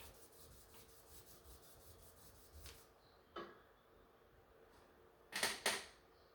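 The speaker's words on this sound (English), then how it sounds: "I'm going to use some 2000 grit sandpaper just to get this part finished." 2000-grit sandpaper rubs across a hammered silver ring made from a Morgan silver dollar, giving faint, soft scratchy strokes, a few brief rasps and two sharper scrapes near the end, with no talking.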